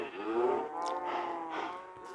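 Cattle mooing in the video game Minecraft, several drawn-out, harmonic lowing calls overlapping across the scene, loud and close with no talk over them.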